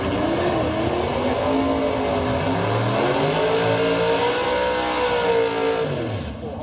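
A drag racing car thunders down the strip at a spring nationals meet, a loud sustained engine roar with rising and shifting pitch that stays dense throughout before easing off at the very end.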